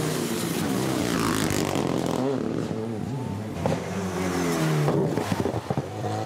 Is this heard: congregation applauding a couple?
no